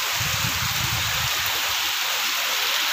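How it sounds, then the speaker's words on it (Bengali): Steady rain falling outside a home during a stormy spell, a continuous broadband hiss of rainfall close by, with a low rumbling patch in the first second and no voices. "অনেক সুন্দর একটা বৃষ্টি হচ্ছে"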